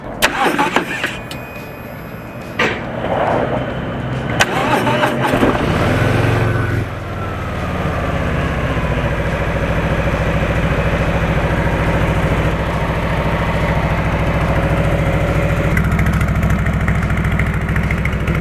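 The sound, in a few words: Harley-Davidson Street Bob motorcycle engine starting, idling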